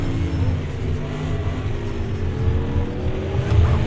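Aston Martin race car in a racing video game, its engine droning steadily with rising and falling pitch as it runs through a turn, loud and continuous with no voices.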